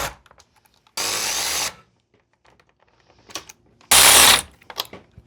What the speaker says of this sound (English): we're gonna be tightening down the last of the bolts using a 10mm